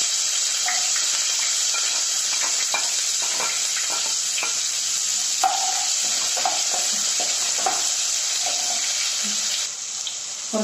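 Onion sautés in a pan with fried urad dal and dried red chillies for puttu upma. A steady, close sizzle runs throughout, with scattered scraping and stirring clicks on top.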